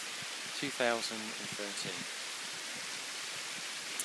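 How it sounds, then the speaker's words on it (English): Steady broadband rush of the waterfalls at Monk Nash, a constant outdoor wash of falling water running the whole time beneath a voice talking close by. "You can see behind me the wonderful waterfalls."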